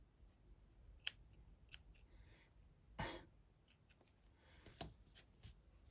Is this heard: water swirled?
no